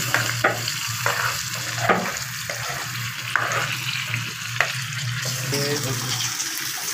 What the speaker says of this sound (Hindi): इस वक्त इसको अच्छी तरह भूनेंगे।